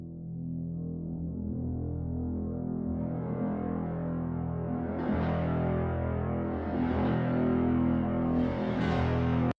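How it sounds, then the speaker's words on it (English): A boat monochord with many strings tuned to the same pitch gives dense, droning tones ringing together in a sustained shimmering wash, with slowly swelling bright overtones building over several seconds. "This is the Monochord. It's a boat monochord"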